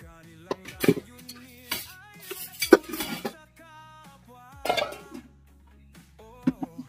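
Plates and dishes handled quickly at home while preparing dinner, scattered clinks and clatters in short bursts, with coughs and quiet voices between them.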